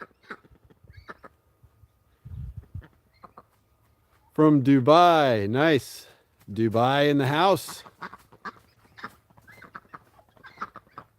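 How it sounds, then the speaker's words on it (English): Ducks and hens kept on a family off-grid homestead let out two loud, close bursts of raspy calls in the middle, set among intermittent talking and quieter background noise. "We've got 2 ducks and 3 hens that survived since the springtime."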